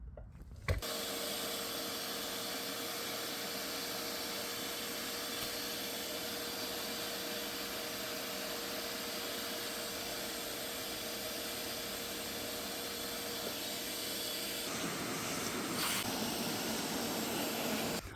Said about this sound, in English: Time for the vacuum.